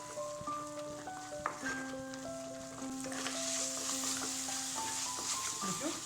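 Turmeric, red chilli and coriander powder stirred into a jackfruit curry, a steady soft scraping and sizzle with a faint tonal hum running underneath, growing slightly louder and busier toward the end.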